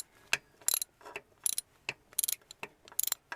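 A ratchet wrench with a 12 mm six-sided socket loosening manifold nuts on a Mercedes 410D van, giving sharp clicking bursts in quick repeated strokes, close and clear.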